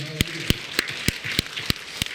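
A Korean church congregation at a festival worship service claps in a steady rhythm, sharp distinct claps roughly every third of a second, with a voice talking faintly underneath.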